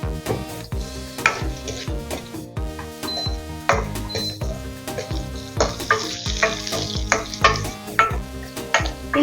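Sliced onions fried with crushed garlic and cumin in a pan: an ongoing sizzle with stirring clatter, partly masked by loud rhythmic background music.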